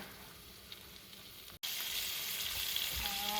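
Eckrich sausage sautéing in a pan gives a steady, moderate sizzle and crackle, with a brief dropout partway through before the frying noise resumes slightly louder.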